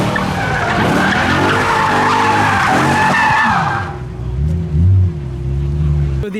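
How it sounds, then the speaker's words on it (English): BMW car sliding at a modified car show meet, tyres skidding loudly and continuously for about four seconds before fading to engine rumble and crowd noise. "there is a BMW sliding"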